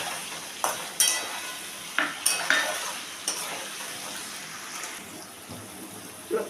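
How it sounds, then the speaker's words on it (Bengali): Soaked chickpeas are stirred into a pumpkin curry in a pan with a soft, steady sizzle underneath, broken by several sharp spoon-against-pan clacks and scrapes at uneven intervals, with no talk. "দিয়ে আমি ছোলাটাকেও ভালো করে মিশিয়ে নিচ্ছি।"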